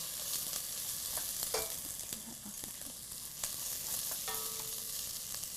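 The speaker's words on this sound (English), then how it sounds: "throw them right on the pan to roast" Garlic and onions roasting in a hot pan make a continuous close sizzle and crackle, with a few light clinks of utensils and no voices.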